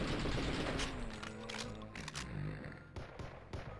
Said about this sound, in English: I'm almost out of shotgun. I'm almost out of assault rifle.